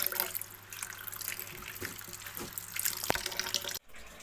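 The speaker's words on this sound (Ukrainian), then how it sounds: "Тільки я буду ждати, поки вона набереться, щоб промити огірки." Steady rushing of water pouring from a tap into a sink, continuous and fairly close, with a few faint clinks before it cuts off abruptly near the end.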